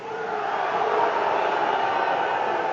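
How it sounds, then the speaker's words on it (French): A large crowd at a professional wrestling match jeers Bull Curry, a dense sustained roar of booing and shouting that fills the hall without letting up. "essuie les huées de la foule"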